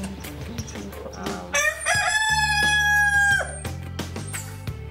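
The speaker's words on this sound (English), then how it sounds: "I have another rooster for you." A rooster brought in to an animal rescue village crows once, loud and close, a long rising then held call, with clucking and farmyard noise around it.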